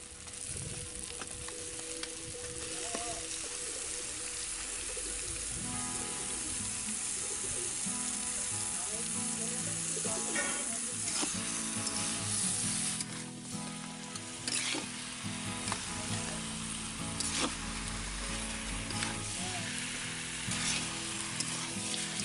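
Duck meat frying with onions in a pan, a strong, continuous sizzle with repeated scraping and stirring clatter heard up close.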